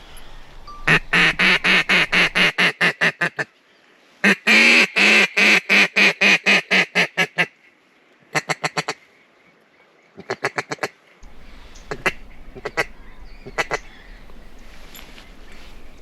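Mallard ducks quack in loud, close, rapid runs of evenly spaced calls, separated by short pauses, with a few sparser quacks toward the end over quiet outdoor background.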